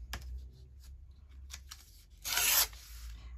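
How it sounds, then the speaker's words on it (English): Paper torn for a junk journal collage: a few short rips and soft rustling handling sounds, then one louder, longer tear near the end, close and quiet, with no voices. "Tear that one down."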